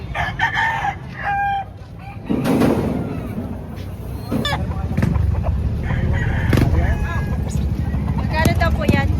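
Roosters crow loudly and hens cluck at a chicken market, several calls overlapping amid busy crowd noise and a vehicle nearby, with people talking throughout.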